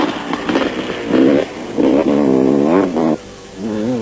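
A Honda off-road race motorcycle in the 1995 Roof of Africa race, its engine rising and falling through several revving pulls, loud and fairly close, with short pauses between throttle bursts.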